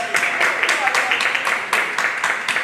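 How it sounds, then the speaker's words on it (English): An audience at a Gullah Geechee Black Music Month event gives a round of applause, with uneven bursts of clapping heard clearly beneath a voice speaking over it. "give him a round of applause"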